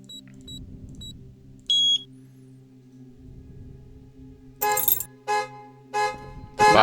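A car alarm in the video game Market Moe sounds as a series of loud, harsh repeating bursts over a low ambient hum, preceded by a few short, thin beeps.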